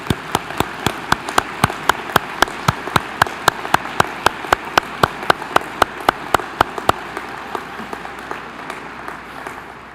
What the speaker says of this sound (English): So please, give them a nice round of applause.